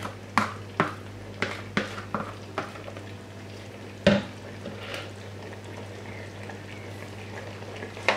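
A spoon stirs potato and seasonings into curried chicken in a pot, giving a series of close scraping knocks against the pot over a soft sizzle.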